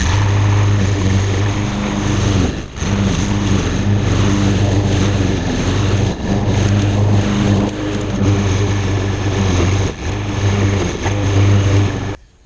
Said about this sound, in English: I need to mow down these weeds